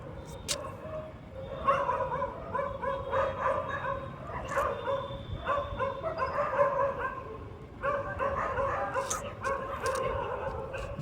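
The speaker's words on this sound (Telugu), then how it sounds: "ఏని అమ్మ కుక్కలు, ఏం కుక్కలు రా బాబు" Several dogs bark and yip repeatedly in ragged bursts through the whole stretch, fairly loud and close, with brief pauses and whimpering yelps mixed in.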